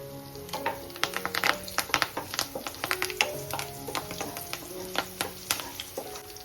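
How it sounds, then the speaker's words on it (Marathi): Curry leaves and garlic frying in hot oil for a kantoli stir-fry, a dense, steady crackle of sharp spitting pops with rhythmic stirring scrapes throughout, no voices. "तेल गरम झालेले आता आपण कढीपत्ता टाकू तेलावरती आणि लसूणसुद्धा टाकून घेऊ थोडं परतून घेऊ"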